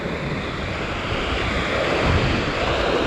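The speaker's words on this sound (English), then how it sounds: "Like a raging river." Flash-flooded creek rushing like a raging river, loud broadband roar of churning water with wind buffeting the microphone, steady and close throughout.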